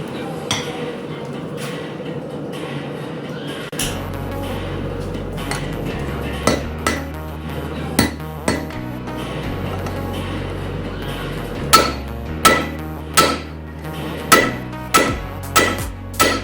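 Hammer forging railroad spike tongs at a blacksmith's anvil, a run of sharp ringing metal strikes that come faster and louder toward the end, close by, over a low hum.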